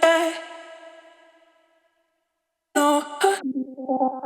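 A reverberant sound-design layer with its low end cut away rings out and decays into silence, then returns as bright stuttering bursts followed by a pulsing, rising tonal pattern, all without voices.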